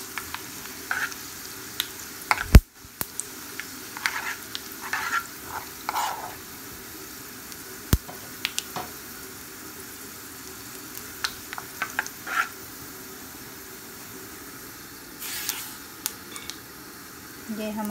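Curry leaves and cumin seeds hit hot oil with reddened fried onions for a dal tadka, giving a steady, close sizzle with scattered stirring scrapes and one sharp pop.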